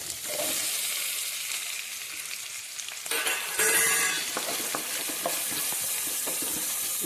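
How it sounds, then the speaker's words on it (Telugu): Onions fry in oil for prawn biryani: a close, steady sizzle that swells sharply about midway, with stirring scrapes and crackles following, no voices. "ఉల్లిపాయ దోరగా వేసేద్దాం"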